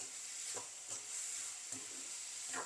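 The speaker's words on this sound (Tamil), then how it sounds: "நெருப்பை கொஞ்சம் கூட்டி விடுவோம் தக்காளி வெங்காயம் நல்லா வதங்கணும்" Tomato and onion fry in a pan for onion tomato thokku over raised heat, a soft steady sizzle with a few light stirring scrapes, fairly quiet and with no talk.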